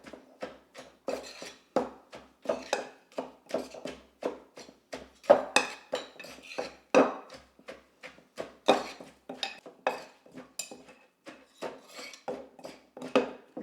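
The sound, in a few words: pestle mashing green papaya salad in a mortar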